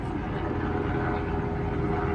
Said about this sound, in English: It's a military helicopter, and he's flying very low.